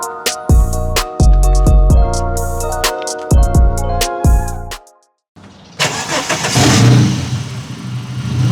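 A turbocharged Ford AU Falcon engine gives a series of loud pulsing bursts, falls briefly silent, then roars back and revs up close by, with no talking.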